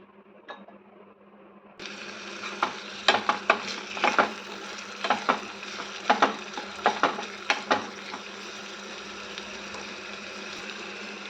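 A tempering frying in oil in a pan with a little salt added for a moringa leaf dal, starting with a sudden burst of sizzling that keeps going while a spoon clatters and stirs in quick, close strokes.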